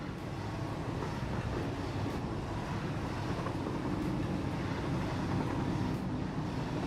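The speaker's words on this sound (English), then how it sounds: "I wonder if they've updated some train sounds through there. That sounded different." Train in the factory-building game Satisfactory rolling through a cave, a steady low rumble and clatter that stays at an even, moderate level throughout with no talking.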